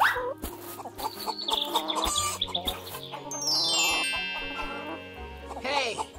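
Hens clucking in a farm barnyard, several short irregular clucks and squawks mixed with chimes and playful music-like tones, moderately loud and close.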